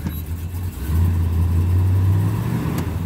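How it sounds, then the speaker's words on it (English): A 1969 Dodge Coronet R/T runs close by with an exhaust leak at the manifold or heat riser. A low, steady engine drone rises briefly to a stronger, throaty tone, then settles, with no talking. "You can hear a little bit of an exhaust leak coming out of the manifold or the heat riser, perhaps."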